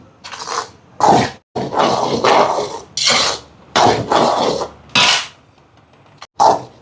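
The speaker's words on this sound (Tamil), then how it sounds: "இப்போ மாவை சேர்ப்போம் சேர்த்துட்டு வறுத்தெடுப்போம்" Flour is dry-roasted in a pan over medium heat for puttu, loud close bursts of a utensil scraping and stirring against the metal, broken by short pauses, with no talking.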